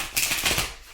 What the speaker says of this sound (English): Let's get your cards shuffled